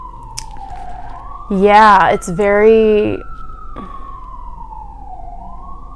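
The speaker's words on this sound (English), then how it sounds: "there are sirens going off right now" A wailing emergency siren sweeps slowly up and down outside near a train line, steady and moderately distant, with a person talking loudly in the foreground for part of the time.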